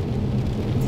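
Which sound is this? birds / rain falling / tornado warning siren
rain falling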